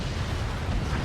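A weapon shot strikes home in the Forts RTS strategy game, a brief, dense explosive rumble with a heavy low-end boom filling the whole moment.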